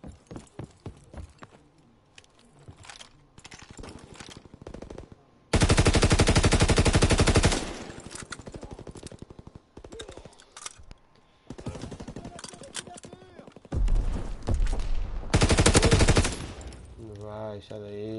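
Machine gun covering fire in a PS4 video game: loud, sustained rapid-fire bursts break out twice, separated by scattered single shots and game sounds, with some talk in between.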